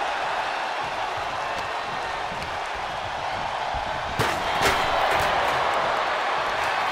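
A wrestling arena crowd in WWE 2K24 roars in a steady wash of cheering throughout, swelling slightly with a couple of sharp impacts partway through.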